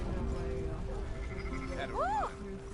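Sheep bleat in the town of Valentine in Red Dead Redemption 2, a couple of rising and falling wavering calls near the end, heard over steady game ambience and a low hum.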